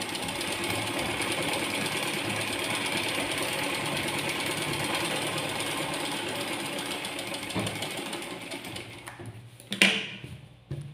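A sewing machine stitches the lining of an aari work blouse with a steady, fast mechanical whir close by, stopping near the end with a few clunks and handling sounds.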